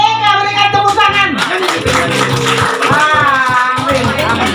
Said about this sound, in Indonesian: Hei, berikan tepuk tangan.